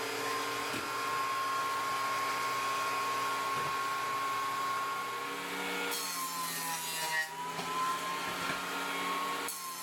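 A small jointer planes 2x4 boards with a steady, close motor hum and cutter whine, then a louder rush of cutting near the end.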